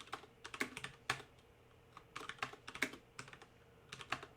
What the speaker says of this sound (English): let's go ahead and write some code for that.